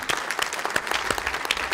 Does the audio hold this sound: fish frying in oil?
no